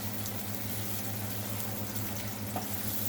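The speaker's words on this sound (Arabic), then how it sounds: "نسيب البصلة تتحمر" Onion frying in a pan as the base for rice with onion, a dense steady sizzle with a constant low hum behind it, continuous and close.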